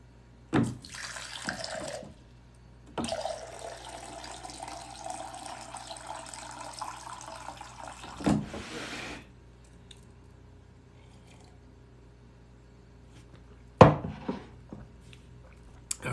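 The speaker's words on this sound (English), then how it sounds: "I actually need to pour some water." Water is poured in a few separate bursts, splashing and trickling into a vessel indoors, with quiet pauses between pours and a brief clatter near the end; no one speaks.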